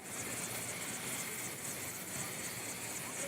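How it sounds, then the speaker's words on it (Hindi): A helicopter bringing a groom to his wedding procession in a village near Khurja, heard as a steady, loud broadband rotor and engine roar that holds evenly throughout without pause. "एक दूल्हा जो है वो अपने दुल्हन को लेने के लिए हेलीकॉप्टर से पहुंचता है।"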